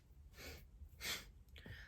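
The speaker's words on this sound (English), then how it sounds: "first breath is inhale" Slow, audible breaths during a breathing exercise for self-healing, with a long airy inhale and a softer exhale, close and quiet, with no talk over them.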